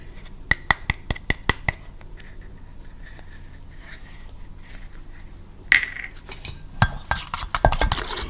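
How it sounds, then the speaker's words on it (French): A cosmetic shampoo mixture stirred in a container: sharp clinks and scraping taps of a utensil against the vessel, a quick burst of strokes at first, then quieter scraping and a louder jumble of clinks near the end. "Je vais bien mélanger."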